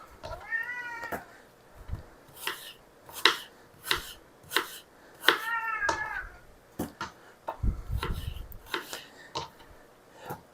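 Peeled, cored apples are sliced for an apple crisp with a knife on a cutting board, giving a dozen or so crisp, evenly spaced chops up close, while a cat meows loudly several times in between.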